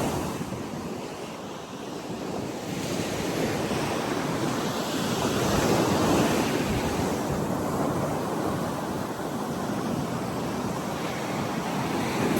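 Ocean surf breaks continuously on Navarre Beach, a broad steady wash of waves mixed with wind buffeting the microphone, swelling gently and receding without any voices.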